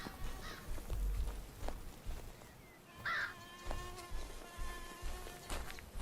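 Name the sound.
mosquitoes buzzing in Medieval Frontiers video game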